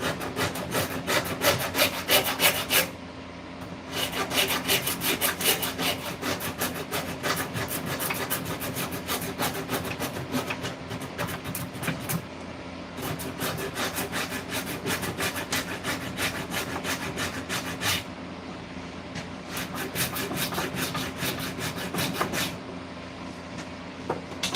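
Repeated rough back-and-forth rasping of sanding on a wooden axe handle, steady and close, with a couple of brief pauses between strokes.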